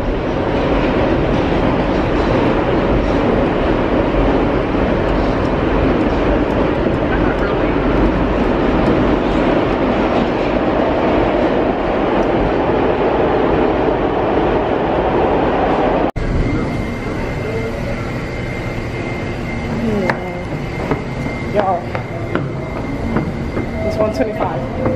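Riding inside a moving New York City subway train, a loud continuous rumble and clatter of wheels on rails, later shifting to quieter rattling with squeals, with voices talking now and then.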